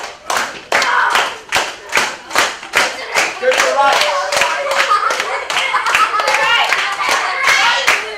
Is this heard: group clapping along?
yes